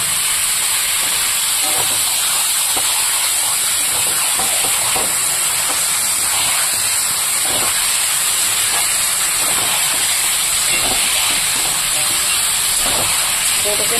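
Meat dropped into hot oil with dried red chillies, whole garam masala and cumin, giving a loud, steady, hissing sizzle that fills the whole stretch with no pause.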